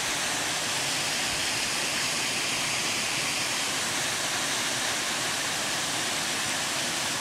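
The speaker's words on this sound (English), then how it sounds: "Nice looking waterfall." Waterfall on a wooded hiking trail in Ashfield, Massachusetts in autumn, a steady broadband rush of falling water that fills the whole stretch evenly and closely, with no voices over it.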